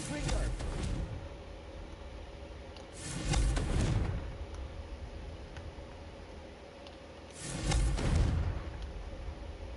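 Two booming blasts from the Confringo spell in the video game Hogwarts Legacy, each a broad rumbling burst a few seconds apart over a low ambient bed with a faint high tone.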